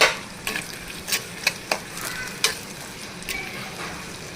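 Onions frying with a little salt in a claypot for gongura mutton curry, giving a steady low sizzle broken by scattered stirring scrapes and a few sharp clicks of a spoon against the pot.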